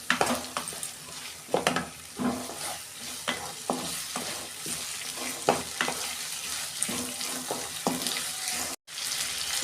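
Onions with salt and slit green chillies fry and sizzle in a pan for a fish curry, a steady crackling hiss broken by repeated scraping stirs, with a brief dropout near the end.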